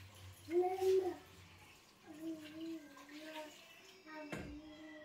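Water is poured into a couscous pot, giving a gurgling, ringing pour in a few bursts over several seconds, close and moderately loud, with a brief knock near the end.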